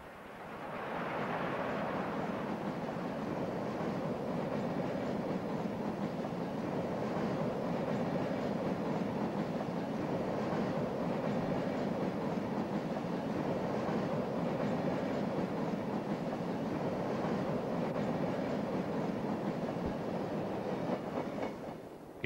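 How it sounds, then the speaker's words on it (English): A small local steam train on a branch line rolls past steadily, a continuous rumble and clatter of wheels on track lasting over twenty seconds, fairly faint and even, with no voices. "a small local train hurries by on a branch line, perhaps soon to be axed"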